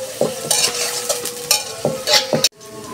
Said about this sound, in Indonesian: Nah lanjut kita menggoreng bawangnya untuk membuat